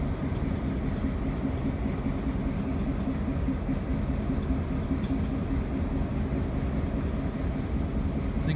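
A Delaware and Hudson diesel locomotive runs with a misfiring engine, giving a steady, loud, low rumbling drone that carries on without letup and has no talking over it.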